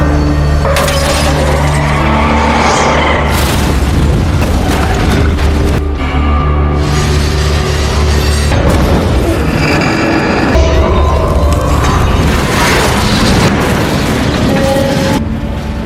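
A truck rolls over and crashes in an action film sequence with cartel killers, heard as a loud, continuous mix of booming impacts, crunching metal and roaring engine, with repeated heavy hits and bursts throughout.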